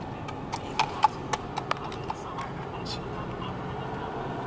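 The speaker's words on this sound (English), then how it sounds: "A small country road with horse riders making their way" Horse riders' hooves clip-clop on a small country road east of Winchester, a few faint, uneven clops at a distance against steady outdoor background noise.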